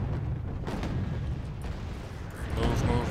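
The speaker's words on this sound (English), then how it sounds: "the next artillery barrage is already on the way" Artillery barrage in Wargame Red Dragon, a continuous rumbling roar of distant shell impacts and booms with scattered sharper bursts, fairly quiet and steady throughout.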